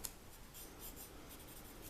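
Side of a graphite pencil shading softly across paper during a figure-sculpture drawing: a steady, quiet scratchy rub lasting throughout, with slight swells in pressure and no talk.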